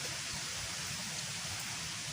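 Steady rain falls in a continuous, even hiss that fills the whole moment without any break, with no voices heard.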